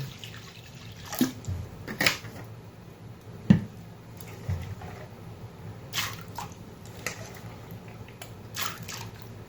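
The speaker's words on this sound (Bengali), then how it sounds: "কড়াটা বসিয়ে দিয়েছি, তো দিয়ে দিব জল।" Water splashes into a wok to boil chana dal, with irregular gushes and drips and a few clanks of metal over a faint background.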